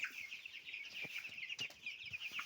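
Young Cobb 500 broiler chicks in a brooding pen give a dense, continuous chorus of high peeping and soft clucking, fairly near and steady, with a few brief rustles and thumps of birds moving about underneath.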